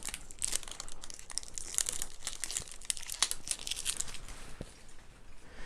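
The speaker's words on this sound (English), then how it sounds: "I'm going to take off the cellophane seal here for the first time" A cellophane seal is peeled off a full whiskey bottle, making continuous close crinkling and crackling with small tearing bursts and no voices.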